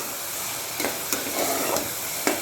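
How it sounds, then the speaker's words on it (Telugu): Coriander paste with ginger and garlic paste fries in a pan, giving a steady, close sizzle with a few short stirring scrapes, no talk. "ఇది ఒక రెండు నిమిషాలు బాగా వేగాలన్నమాట పచ్చివాసన పోయేంత వరకు ఉంచాలి"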